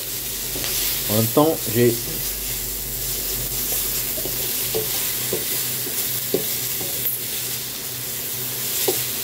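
Small onions frying in a home kitchen pan, a steady soft sizzle under a French-speaking voice, with a few clinks of utensils and stirring scrapes near the start.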